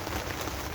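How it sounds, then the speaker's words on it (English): Heavy rain falls on an allotment as a dense, steady hiss of drops on surfaces around. The sound is continuous and fairly loud, with no speech. "now it's quite heavy rain again"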